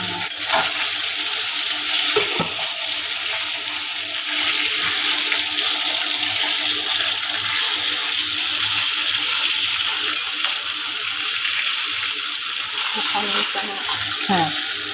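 Pieces of rohu fish fry in hot oil in a pan, giving a steady, loud sizzle that fills the whole stretch, with faint clinks of turning and a few brief voice sounds near the end.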